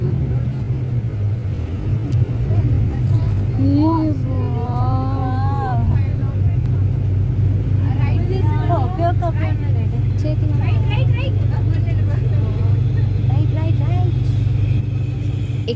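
A bus engine rumbles low and constant inside a vehicle carrying university students between areas of the AMTZ medtech zone in Andhra Pradesh, while passengers chat and a voice sings over the drone.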